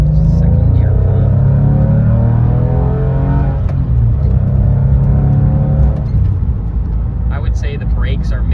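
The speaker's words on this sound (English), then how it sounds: "Second gear pull." A 2001 Porsche 911 Carrera 4 pulls hard in second gear, its engine note climbing loudly and steadily from inside the car before easing off, with a voice speaking over the engine noise.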